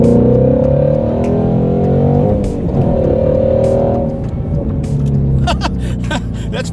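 A Ford Mustang GT350 fitted with a nitrous system revs up close and loud. Its deep engine note climbs and falls in pitch, and a few sharp clicks and pops come near the end.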